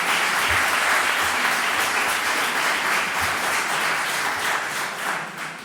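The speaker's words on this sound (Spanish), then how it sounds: "Me emocionan sus aplausos." Warm, sustained applause fills the room from an audience at a book presentation. The dense clapping holds steady and eases slightly at the end.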